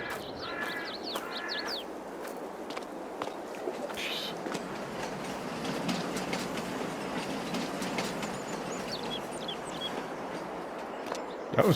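A train runs along the railway tracks in Farming Simulator 22, with a steady rolling rumble and faint rhythmic clatter across the whole stretch. Game bird calls and caws sound over it, and a voice speaks briefly at times.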